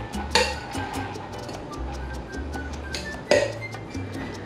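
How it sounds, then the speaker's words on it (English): Ice clinks and rattles out of a cocktail shaker as a daiquiri is strained into a glass, two sharp glassy crashes standing out over a steady low hum, close and moderately loud. "Discharging the ice"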